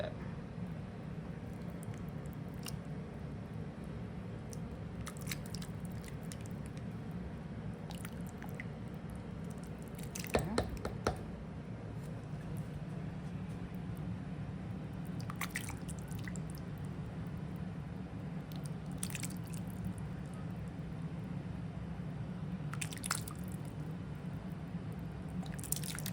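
Navy bean soup is stirred in a cooking pot with wet squishing and soft sloshing sounds. These continue quietly and steadily for a long stretch, with a few louder clinks and scrapes partway through.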